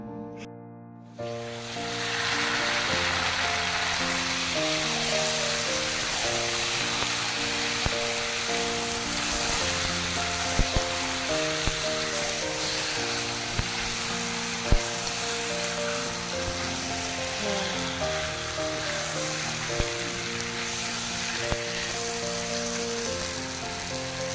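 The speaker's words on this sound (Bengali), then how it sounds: "রসুনটা এখন ভালো করে একটু লাল করে ভেজে নিচ্ছি" Garlic fries in a pan after onions, giving a continuous dense sizzle with crackling pops. It opens with a brief quiet moment, then runs close and loud for the rest, under a steady tonal hum, with no voices.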